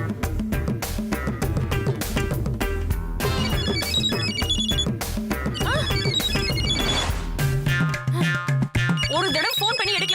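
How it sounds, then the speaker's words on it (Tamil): A mobile phone rings inside a home in a Tamil TV serial scene, a steady electronic ringtone melody playing loudly and continuously over music, without pause. "ரிங் சத்தம் கேட்ட மாதிரி இருந்துச்சு."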